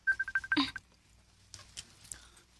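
A quick run of about six telephone keypad tones beeps out a number, followed by faint clicks and line noise as the call connects.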